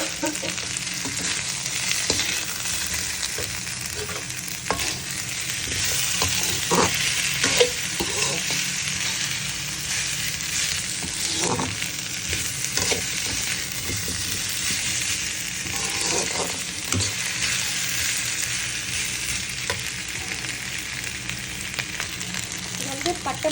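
Cinnamon and dried chilies fry in hot oil for chicken black pepper fry, a steady close sizzle with occasional scraping stirs throughout.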